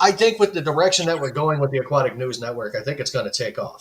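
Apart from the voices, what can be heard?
No everyday noise stands out behind the speech.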